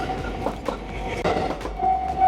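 A train rumbles past in Osaka, Japan, with a steady heavy roll and rattling wheel clatter up close, and a faint squeal now and then over the continuous noise.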